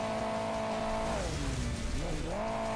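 Car in the mobile game Hill Climb Racing 2, its engine droning steadily with pitch rising and falling as it drives over terrain, alone and fairly loud throughout.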